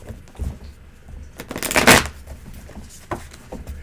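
Tarot cards being shuffled between readings, with soft riffling and sliding bursts that build to one louder flurry in the middle, then lighter taps and shuffles near the microphone.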